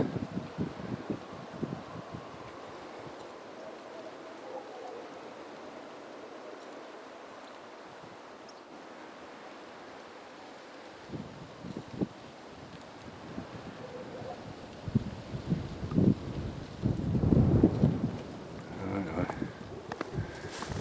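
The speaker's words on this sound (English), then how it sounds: "The wind blowing quite heavily" Strong, cold wind buffets and roars against the microphone throughout on the Lower Scratchpost Trail, with gusts intensifying toward the end and a few faint voice fragments.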